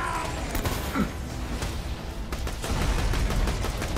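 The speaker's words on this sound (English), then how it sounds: "Wow, that was an explosion." Booming, chaotic combat in Borderlands 2, a heavy explosion amid rapid gunfire and crashing impacts, loud and continuous with no talking over it.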